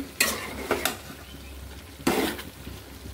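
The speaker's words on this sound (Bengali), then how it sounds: "এই চুলাতে ভাজিটা দিছি, ফুলকপি দিয়ে আলু ভাজি" Cauliflower and potato bhaji frying in a pan on a stove, with a couple of bursts of stirring and scraping against a steady low sizzle, close by and with no talking.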